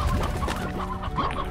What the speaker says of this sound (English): Let's also get rid of the briar hens, maybe.